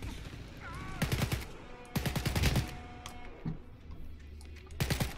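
Gunfire in the video game Wolfenstein: Youngblood on PC, coming in several rapid automatic bursts separated by short pauses, fairly close and crisp, with faint game ambience underneath and no talking.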